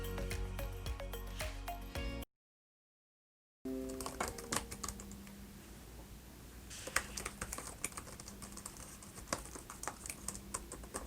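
Quick, crisp keystrokes patter on a Dell XPS laptop keyboard up close, a steady run of clicks broken by a brief silence.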